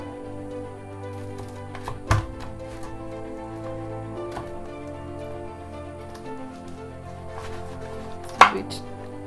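Knife cutting through a homemade pizza with a crunchy crust, two sharp crackling chops standing out near and loud over a low steady background hum, with faint scraping between them.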